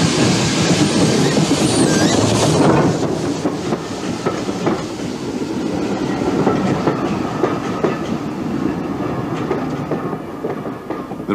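Ex-LMS steam tank locomotive running into Birkhill station on the Forth Valley Railway, a loud continuous rumble and clatter of wheels that eases slightly as it comes in.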